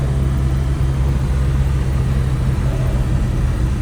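An old, cheap first car drones loudly while cruising at speed, a constant low engine and road hum heard from inside the cabin with no talk over it.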